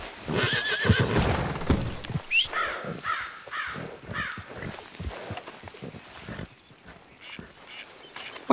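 Horses in the Red Dead Redemption 2 video game whinny and snort repeatedly while hooves clop, with crows cawing in the background of an outdoor scene.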